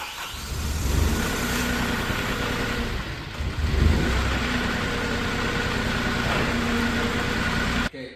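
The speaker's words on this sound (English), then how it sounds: "So here's your Kohler engine coming to life" The Kohler engine of a 2015 Moffett M5 forklift runs steadily at a close, even idle, swells briefly partway through, then cuts off abruptly near the end.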